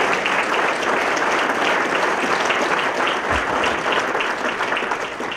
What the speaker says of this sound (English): If we could give them a specific round of applause for all that